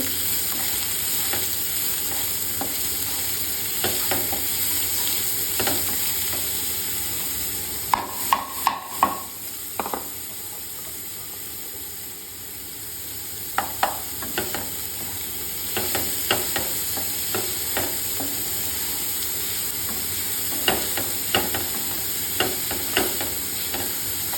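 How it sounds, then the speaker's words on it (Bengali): Chopped onions, two large ones, frying in a pan for rajma, a steady close sizzle broken by repeated clinks and scrapes of stirring, no talk. "পেঁয়াজ কুচি দিয়ে দেবো। দুটো পেঁয়াজ, বড় পেঁয়াজকে আমি কুচিয়ে নিয়েছি।"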